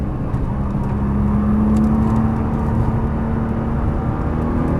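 Nissan GT-R on a racetrack braking and downshifting, a loud close engine drone inside the cabin with a rising whine as revs shift, steady and continuous with no talking.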